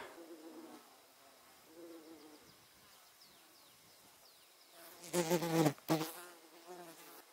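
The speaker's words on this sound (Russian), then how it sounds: "На Васильке работают пчелы." Steady soft buzzing of bees on cornflowers close by in a quiet field near a forest in late June, with a louder rustling burst partway through.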